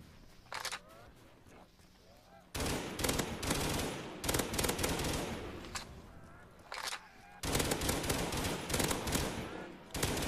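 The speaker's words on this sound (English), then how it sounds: "Oh my god, this thing's crazy! This is too much. This gun's way too much." Bursts of rapid, loud gunfire from an overpowered weapon in a custom zombies video game, coming in several long sustained volleys separated by short quieter gaps.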